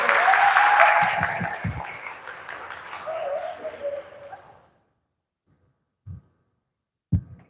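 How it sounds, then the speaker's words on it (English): Audience applause for speakers at an education conference, fairly loud at first, then thinning and fading out after a few seconds, followed by near silence broken by a couple of isolated knocks. "Give applause to all speakers."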